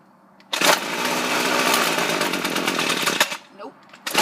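A cold gas weed eater catches and revs, a loud raspy two-stroke whine held for about three seconds, then sputters and drops before roaring up again at the very end.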